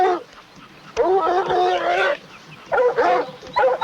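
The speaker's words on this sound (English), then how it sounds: "Their barking will direct the research team to the area." Hunting dogs bark and yelp in short excited bursts while holding a cougar at bay, several voices overlapping, with brief pauses between volleys; fairly close and loud.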